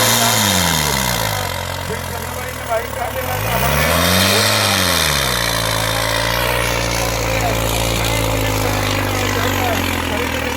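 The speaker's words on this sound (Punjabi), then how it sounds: "ਲਓ ਸਿਰੇ ਦਾ ਟਰੈਕਟਰ ਹੈ ਹੁੱਡਾ ਫਾਰਮ ਵਾਲਿਆਂ ਦਾ ਟਰੈਕਟਰ ਹੈ" Modified jugaad tractor engine at a tractor disc-pulling competition in Nurmahal, loud and close, revving in rising and falling sweeps before settling into a steady heavy drone, with someone talking over it throughout.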